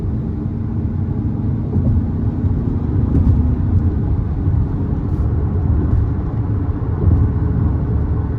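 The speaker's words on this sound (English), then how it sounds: "Let's give it some throttle here." The 2.0-liter turbo engine of a 2023 Ford Bronco Sport Badlands pulls under throttle, producing a steady, loud, low rumble that holds throughout, heard from the cabin without talking.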